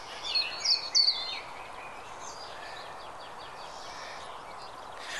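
A few bright bird chirps up front, then fainter, overlapping bird calls continue in the distance up a mountain over a steady background hiss.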